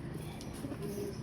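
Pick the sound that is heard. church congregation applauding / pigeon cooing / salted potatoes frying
pigeon cooing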